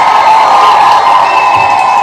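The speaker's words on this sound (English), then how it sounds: "let's give the beautiful Shay a round of applause" Loud crowd cheering and shouting with some applause for a woman named Shay, a dense continuous roar of voices held throughout.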